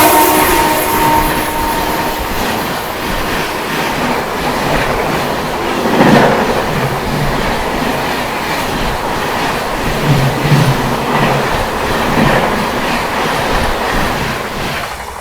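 Another train thundering by on the adjacent track, a dense steady rumble with rhythmic wheel clatter heard from inside a moving train in India, a faint horn early, continuing loud for about fifteen seconds.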